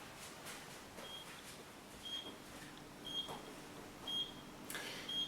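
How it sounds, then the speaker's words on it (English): An oven timer beeps repeatedly, faint and regular, in a quiet kitchen while a Christmas cake bakes, short high tones recurring about once a second with no talk. "As you can hear, the oven timer is beeping."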